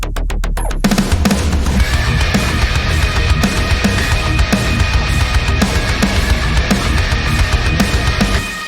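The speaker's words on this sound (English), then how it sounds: "here I have a metal track that sounds like this" Metal track playing back from a DAW: a brief drum fill opens into dense, loud distorted guitars with steady pounding kick and snare hits driving on for several seconds, no voices.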